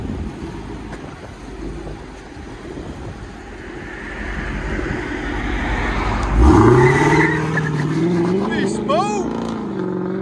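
A silver Dodge Charger R/T with a 5.7L HEMI V8 and Borla ATAK exhaust with carbon 5-inch tips idles with a deep steady rumble, then revs up sharply, the pitch rising and falling through several throttle blips under people talking nearby.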